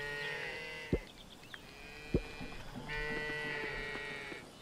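Farm animals in the video game Coral Island, cattle mooing steadily over a busy game soundscape with layered tonal tones and a couple of sharp thuds, no talking.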